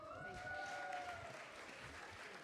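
An audience claps at a Russian heritage celebration in Brooklyn's Borough Hall, a dense, even wash of applause that holds steady for the whole moment.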